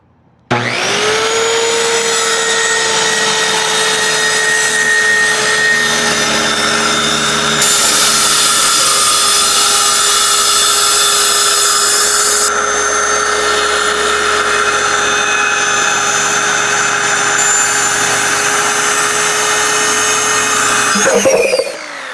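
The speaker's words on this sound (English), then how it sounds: "So we're cutting a backing plate for this bracket." A power tool cuts a backing plate for an outboard motor bracket, a loud steady high-pitched whine running continuously for about twenty seconds with slight changes in pitch and no talking over it.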